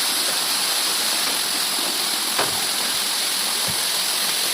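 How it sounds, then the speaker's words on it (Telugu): Steady, full rushing of the Punyagiri waterfall near Srungavarapukota, Andhra Pradesh, water falling from above into a valley, filling the whole stretch, with a brief faint knock partway through and nobody speaking. "ఇక్కడ చూడండి పై నుంచి వాటర్ పడుతుంది"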